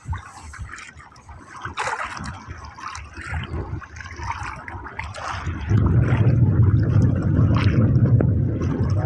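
Waves slap and wash against a small fishing boat on Manila Bay, with irregular splashes that swell into a louder, sustained rush of water near the end.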